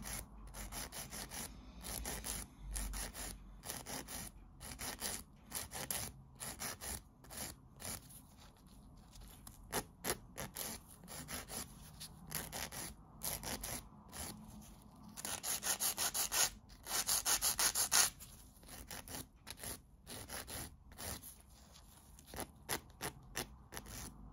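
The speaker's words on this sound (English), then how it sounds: "You just want to go in and file it to make it straight." Rapid, rhythmic scratchy rasping of a nail file on acrylic nails, close up, in bursts of back-and-forth strokes with short pauses, getting louder near the end.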